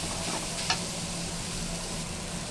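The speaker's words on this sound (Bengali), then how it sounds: "কড়ার মধ্যে চিচিঙ্গাটা দিয়ে দিচ্ছি," Snake gourd fries in a pan with a steady, soft sizzle and a faint clink of stirring, close but fairly quiet, with no talking.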